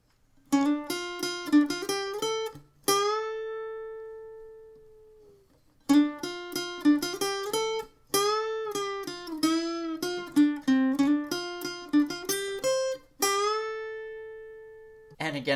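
An electric-sounding guitar plays a riff, quick plucked single notes in bursts with a sustained string bend ringing out, pausing briefly between phrases, close and clear with no talking.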